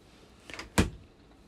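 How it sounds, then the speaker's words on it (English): Pull-out kitchen drawer in a 2023 Swift Elite 560 caravan sliding open: a soft rolling slide followed by a single sharp knock as it reaches its stop, close and alone in a quiet interior. "Same again with here, just a nice pull-out drawer."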